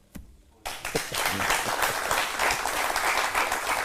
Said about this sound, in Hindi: अगर नहीं मालूम थी फिर बजाई ताली।